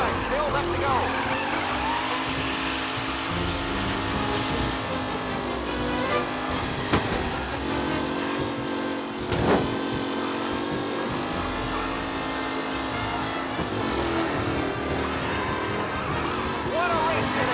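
Race cars in the Mafia Definitive Edition video game roar continuously at close range, engines droning with brief tire squeals, while a race commentator talks over them throughout.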